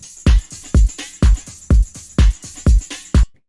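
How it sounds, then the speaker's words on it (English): A drum machine style kick hits alone in an even loop, eight punchy, booming strikes at a steady tempo, close and loud before stopping abruptly. "It's just this kind of like drum machine type of kick that I found."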